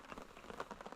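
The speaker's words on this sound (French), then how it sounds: "Du moins il pleut." Soft patter of rain falling on a surface in Tasmanian primary forest, a quiet, irregular spatter of drops over one second.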